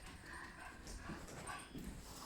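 A dog whimpers and gives short, high yips in a quiet room. The calls are faint and come in a few small bursts over soft background noise.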